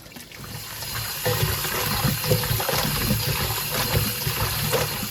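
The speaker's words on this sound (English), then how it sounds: "we start to wash the goat. We start with lime juice and cold water" Running water splashes and trickles steadily, close by, with light clatter and handling noises mixed in, as goat meat is washed with lime juice and cold water.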